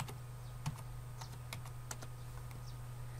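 Fingers tap out an email address on a computer keyboard, a quick irregular run of crisp close keystrokes over a faint steady hum.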